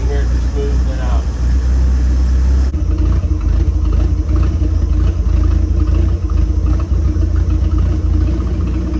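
A 1976 Chevrolet C10 square-body pickup idles steadily after an idle mixture screw adjustment, a continuous low rumble close by with someone talking over it.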